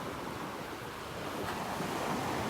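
Waves wash steadily onto a Gulf beach at Delnor-Wiggins beneath old dead sea grape trees, a continuous soft surf roar with light wind noise and no talking.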